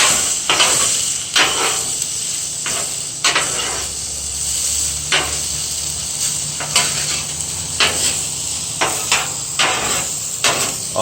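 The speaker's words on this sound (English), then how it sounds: "Go ahead and mix the hash browns with the onions." Hash browns and onions sizzling on a Blackstone griddle, with a steady hiss broken by repeated sharp spatula scrapes and taps as they are mixed, loud and close.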